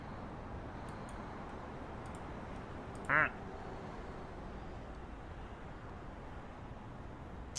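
A single short duck quack from a video game cuts through a steady wash of low background noise, brief and fairly faint, with nothing else standing out.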